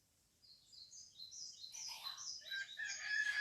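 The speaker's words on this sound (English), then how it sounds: "There they are. Cock-a-doodle-doo." A rooster crows clearly, its call rising and stretching over a few seconds against an otherwise quiet background.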